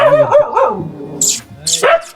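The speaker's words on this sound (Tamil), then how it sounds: "நாய்கள் நிறையா இருக்கு பார்த்து வரணும்" Several dogs near a hillside ashram in the rocky hills of Vallimalai, India, give sharp, close barks and yips in quick irregular bursts, some whining tones mixed in, with no one talking.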